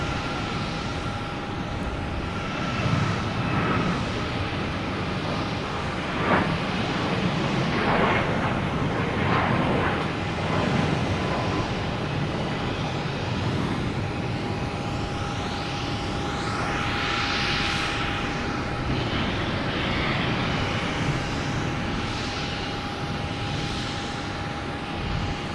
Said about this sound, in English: Next taking off, we have a Southwest heading to Austin, flight 1290.